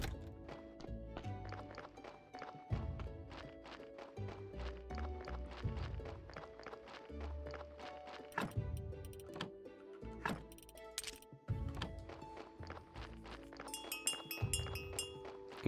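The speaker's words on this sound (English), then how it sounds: "The donkey's back." Hooves of a donkey in the video game Graveyard Keeper, light rhythmic clip-clop steps under a busy layer of plinking game music, fairly quiet throughout.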